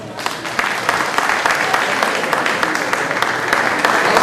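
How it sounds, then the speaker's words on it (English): A crowd at a flag-raising festivity gives a lively round of applause, dense clapping with sharper individual claps popping out, loud and sustained from start to finish, with faint voices mixed in. "can I get a round of applause for this young lady here?"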